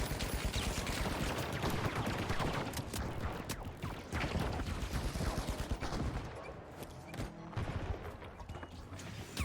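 Dense, rapid gunfire rattles nearly without pause through a zombie-survival game, loud and close, with bursts of shots fired at a zombie.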